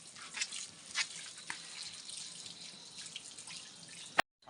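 Tap water runs steadily in an outdoor village setting in the Uttarakhand hills as papaya is washed, a continuous hiss with a few splashes, moderately faint and alone, cutting off abruptly near the end.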